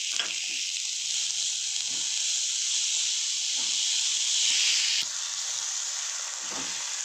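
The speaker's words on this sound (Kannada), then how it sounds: "ಇದು ಒಂದು ಸ್ವಲ್ಪ ಹಸಿ ವಾಸನೆವರೆಗೂ ಫ್ರೈ ಮಾಡಬೇಕು." Fenugreek leaves and onion fry in a pan with a steady bright hiss and sizzle, close and continuous, while occasional soft stirring knocks come through underneath.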